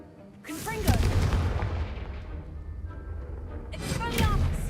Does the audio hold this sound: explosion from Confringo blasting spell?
yes